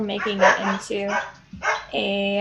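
Dogs bark and yip indoors, close and fairly loud, mixed in with a person talking over them during a tabletop role-playing game session.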